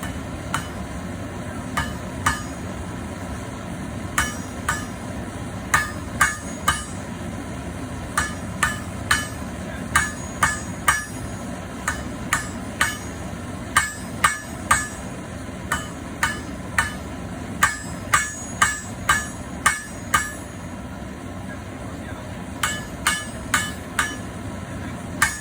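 Hammer blows on hot metal while forging a hook, sharp ringing strikes repeated in irregular clusters over a low background hum, up close.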